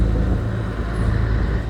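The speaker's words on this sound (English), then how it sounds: "That's how I remember truck sounding." A heavy engine idles with a low, steady rumble, close and continuous, with no voices.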